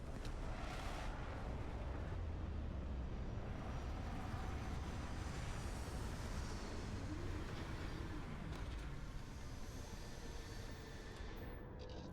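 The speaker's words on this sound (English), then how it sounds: "Landing struts primed. Retros firing." Spaceship retro thrusters fire during a landing in the video game Starfield, a loud, steady roaring rush that holds continuously throughout with no talk over it.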